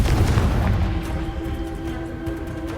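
A Confringo blasting spell goes off in Hogwarts Legacy with a loud, low booming burst that rumbles and fades over a few seconds, with steady game noise continuing underneath.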